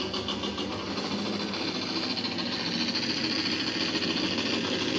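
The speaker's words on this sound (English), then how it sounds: "They'll sense my presence and the engine will start," Recorded drag racing motorcycle engine audio plays over speakers in a motorsports museum, a loud, dense, buzzing mechanical roar that holds steady and grows slightly over a few seconds, with no talking.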